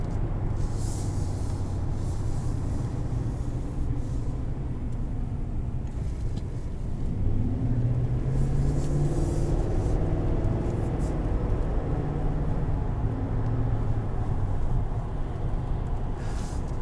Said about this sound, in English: Rides really well on the highway.